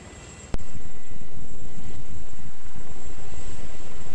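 A jet aircraft in a combat video game roars loudly and continuously after a sharp click-like onset, a dense broadband engine rumble that fills the whole stretch without talk.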